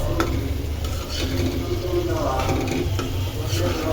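Fried eggs being stir-fried in a pan in a home kitchen, with a continuous close sizzle and scraping stirs over a low background rumble from a nearby road.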